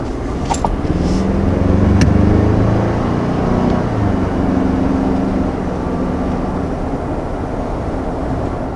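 A 2020 Ford Ranger's 2.3-liter four-cylinder engine runs with a deep, steady drone that swells slightly early on and then holds, loud and close, with a few faint clicks and no voices.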